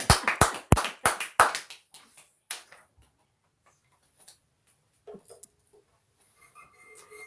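A handful of sharp, close handclaps ring out in quick succession at a concert, then fade into near silence with only faint scattered sounds.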